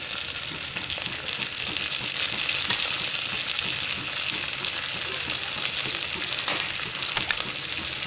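Onion and drumstick flowers sauté in hot oil, making a steady, close frying sizzle and crackle with faint stirring throughout.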